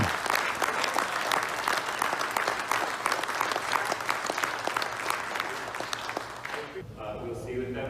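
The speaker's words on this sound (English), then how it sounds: "he received a very nice round of applause from the crowd" A crowd at a conference closing session gives a warm round of applause, dense steady clapping for several seconds that fades out abruptly near the end.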